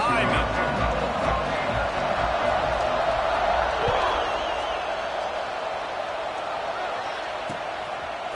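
A stadium crowd in a college football video game roars in a steady, dense wash before a kickoff, with a commentator's voice talking over it.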